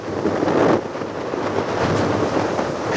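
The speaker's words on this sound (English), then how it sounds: "it's kind of windy, I hope you can hear me" Steady roaring wind buffets the microphone, a broad rumbling rush with a stronger gust near the start and no voices.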